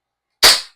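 One sharp, close crack of a Hi-Capa style airsoft pistol, a Double Bell 789 Combat Master, firing a single shot after silence, with a short fading tail.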